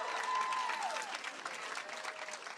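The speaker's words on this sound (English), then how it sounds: "let's give him a round of applause for his willingness to run" A crowd at Michael Bennet's 2022 election victory celebration applauds, full sustained clapping with a few whistles and cheers threaded through, steady and fairly close.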